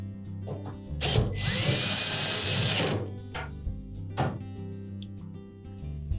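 A power drill drives a screw into a Samsung dryer panel against its support bracket: one sustained whirring burst of about two seconds, close and loud, with a short blip afterward amid quiet handling clicks.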